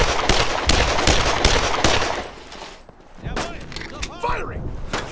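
Bursts of rapid machine-gun and rifle fire from a World War II battle in Brothers in Arms: Road to Hill 30, loud and dense at first, briefly easing, then resuming with scattered shots amid shouted voices.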